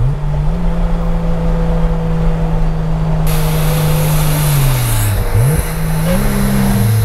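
A 2000 Ford Lightning pickup accelerating hard in second gear, its engine note rising and holding steady up close, then dipping briefly as revs drop and climbing again, loud and continuous with no talking.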